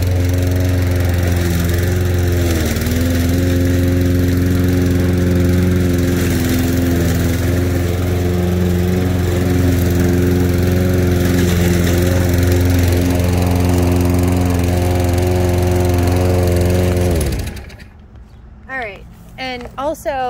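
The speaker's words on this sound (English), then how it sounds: "you guys can watch me mow the grass if you want to" A lawn mower cuts grass in Georgetown, its engine droning loud and close with steady harmonic hum for about seventeen seconds before cutting off, followed by faint scattered sounds.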